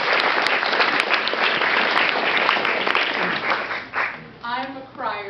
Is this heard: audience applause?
yes